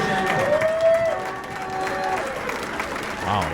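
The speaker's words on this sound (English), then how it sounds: "Wow, that was raucous, man. rapturous applause." Rapturous applause from a crowd at a Democrats of the Year political event, with dense clapping and some cheering throughout, close and steady over a low murmur.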